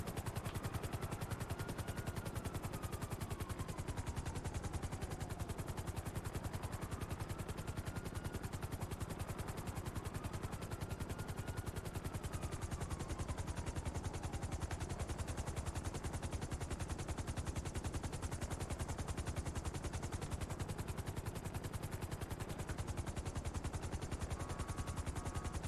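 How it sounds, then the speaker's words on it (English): A helicopter landing in GTA Online, its rotor chopping steadily and loudly throughout with a whining engine tone rising and falling, while gunfire-like thumps blend into the continuous game noise. "Helicopter's just landed"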